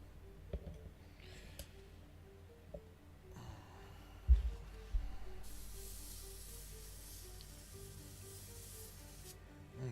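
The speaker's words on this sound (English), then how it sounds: "That's how you know you got your airbrush tuned just right." An airbrush sprays paint onto a 1/35 LAV-25 scale model, a quiet close hiss that starts with a click and continues steadily, with faint clicks and handling noises before it.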